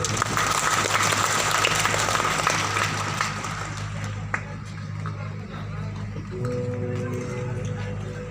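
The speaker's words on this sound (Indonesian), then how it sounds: "Mari kami tepuk tangan untuk Tuhan." Dense crowd applause fills a church ceremony marking the dedication of a prayer house in Sentani, Papua. The clapping is loud and sustained at first, then thins out toward the end, when a voice and a steady tone come through.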